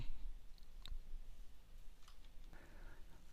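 A computer mouse gives a few sharp, isolated clicks close to the microphone, spaced apart amid quiet room tone, while editing in After Effects.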